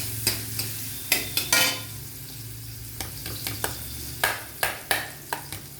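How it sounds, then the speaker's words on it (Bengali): Tomatoes fry in oil while being stirred, a low bubbling sizzle punctuated by a dozen or so sharp spatula scrapes and taps on the pan, close and fairly quiet. "তেলের মধ্যে অলরেডি আমি টমেটো দিয়ে দিয়েছি, টমেটো একটু হয়ে আসবে।"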